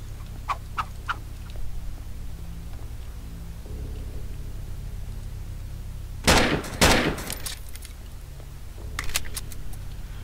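Gunfire in the video game Grey: a couple of loud close shots burst out mid-stretch, followed later by quieter sharp cracks, over a low steady game hum with scattered faint clicks.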